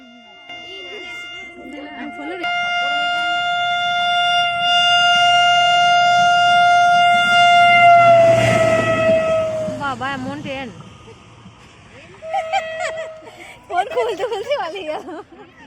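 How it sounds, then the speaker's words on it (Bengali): A passing train's loud, sustained horn blares close by for several seconds as the train rumbles past, then fades; voices follow afterward. "এরই মাঝখানে ট্রেনও আসছিল"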